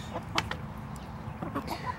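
Backyard homestead chickens cluck in short, scattered bursts over a steady low farmyard hum, a few close calls standing out against softer clucking from the flock.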